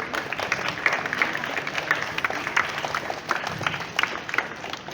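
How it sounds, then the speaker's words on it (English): Applause at a school morning assembly after a student presentation, a loose, moderate patter of many hands clapping at an even level without a clear peak. "So give a huge round of applause for them."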